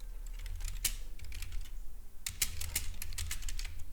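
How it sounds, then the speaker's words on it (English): Fingers tap rapidly on a computer keyboard in uneven bursts of clicks and keystrokes, close and fairly loud, with a short pause midway and no voices. "Clearly can't type and talk at the same time."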